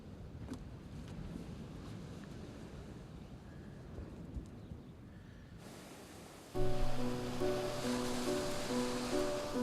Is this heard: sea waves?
yes